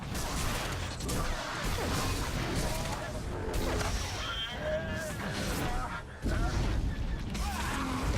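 Turret fire at an enemy vessel in the video game Star Wars: The Old Republic, repeated blasts and mechanical clatter running through a constant loud mix of space combat noise, with a voice talking over parts of it.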